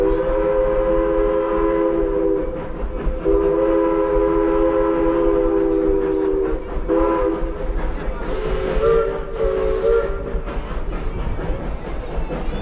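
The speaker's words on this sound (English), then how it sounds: "I hear 111 coming around the mountain." Locomotive 111 on the Georgetown Loop Railroad in Colorado approaches, its steam whistle sounding long sustained tones over a steady rumble and clatter of the train, loud and continuous throughout.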